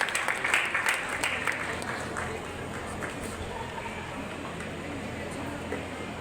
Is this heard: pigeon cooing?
no